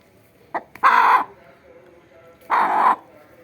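A hen sitting on eggs on a farm gives a short cluck, then two drawn-out, throaty squawking calls spaced apart, close and loud against a quiet background with no talk.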